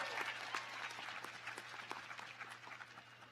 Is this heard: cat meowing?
no